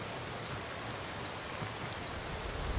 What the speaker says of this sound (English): Now we get to go walk through the rain back to Windhelm.